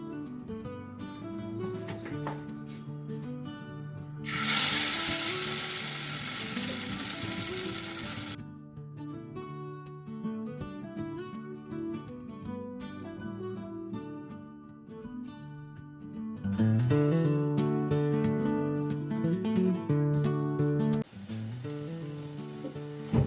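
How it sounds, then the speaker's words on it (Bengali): Spinach and potato fritters hit hot oil in a wok with a loud hissing sizzle that swells for a few seconds, while steady background music plays throughout and the frying fades back under it. "কড়াটায় তেল দিয়ে বড়াগুলো ভেজে নেব।"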